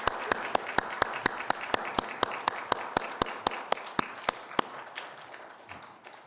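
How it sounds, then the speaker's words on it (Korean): A congregation at a Sunday church service claps in a brisk, steady unison rhythm of sharp, evenly spaced beats that stop after about five seconds, leaving quieter room noise. "하나님께 영광의 박수를 올려드리겠습니다"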